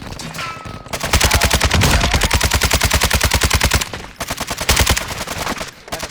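Sustained rapid automatic gunfire in the Warzone 2.0 video game, a dense loud burst of shots lasting several seconds, briefly pausing and then resuming in shorter bursts.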